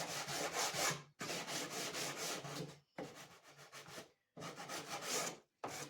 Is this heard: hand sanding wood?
yes